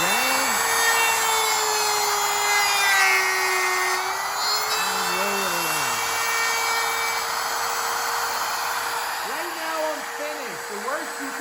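Wood router with a steady high whine cutting wood around an aluminum template for a jewelry box, loud and close throughout, with someone speaking briefly over it several times.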